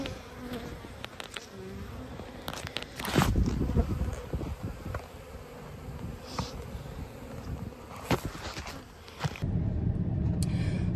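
A dense, continuous buzzing of many honey bees in a full hive fills the air up close, with occasional rustles and knocks of handling over the steady drone.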